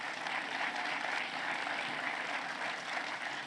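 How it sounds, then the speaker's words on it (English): Audience applause for award winners at a television academy honors ceremony, a dense, steady wash of clapping from a large crowd lasting throughout, loud and continuous with no voices over it. "So let's give a round of applause to all of our winners."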